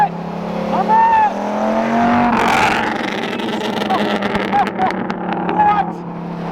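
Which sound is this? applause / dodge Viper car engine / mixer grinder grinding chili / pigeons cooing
dodge Viper car engine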